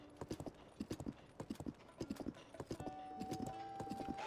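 A horse gallops in Zelda: Tears of the Kingdom, hooves beating in quick, evenly spaced clusters, close and clear, settling into a softer steady trot near the end with a faint tone beneath.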